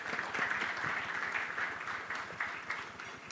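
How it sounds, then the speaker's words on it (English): Sustained audience applause fills a hall at a national journalism awards ceremony in Uganda, a steady, dense wash of many hands clapping throughout without pause. "a special applause to all of you"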